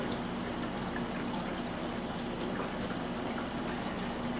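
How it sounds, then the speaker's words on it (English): Water drains from a full sink down the pipe as a faint, continuous gurgling rush with a low steady hum beneath it, unbroken throughout. "Let her drain. We can hear the water going"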